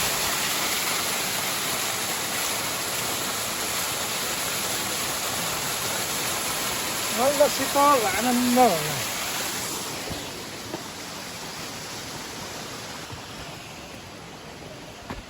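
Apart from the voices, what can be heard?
waterfall at Nagarkot, Nepal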